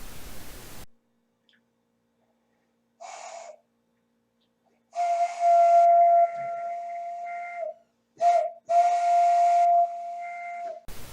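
Interlocked hands blown to make a whistle, several separate attempts: airy breathy puffs, then clear sustained pure tones that waver and stop between tries, close and alone with no talk.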